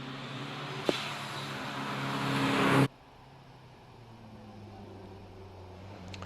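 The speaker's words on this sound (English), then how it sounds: "Here's the 924 Turbo." Porsche 924 Turbo climbing the Prescott hill course, engine note rising steadily as it accelerates for about three seconds, then cutting away to a quieter distant hum with no talking.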